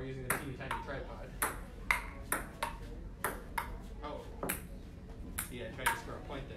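A table tennis ball clicks sharply off paddles and the table in a quick, irregular rally, each hit crisp and close against a constant hiss of room noise.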